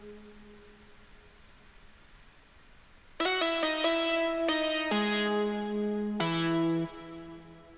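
An Electra X synth preset with chorus, flanger, ping-pong delay and reverb plays a short sequence of bright, bell-like chiming notes. Faint echoing tones come first, then the notes enter loud and ring out into a washy tail.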